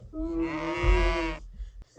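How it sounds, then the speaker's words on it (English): A cow lets out one long, loud moo nearby, holding steady for over a second before fading into quiet farm background. "We say milk and the cow start."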